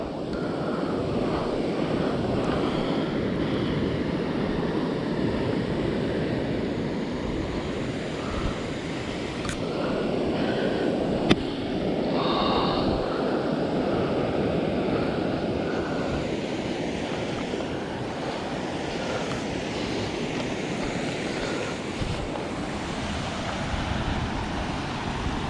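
Heavy, continuous rush of a large waterfall swollen after rain, a steady broadband roar filling the whole stretch with no break and no voices.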